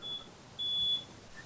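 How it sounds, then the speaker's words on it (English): Electronic beeping leaking through a participant's audio feed during an online committee meeting: a short tone, a pause, then a longer steady beep, thin and faint over a quiet background. "Now I hear beeping."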